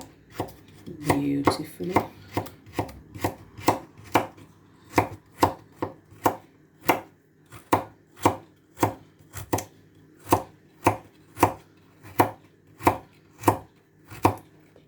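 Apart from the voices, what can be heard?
chopping carrots with a knife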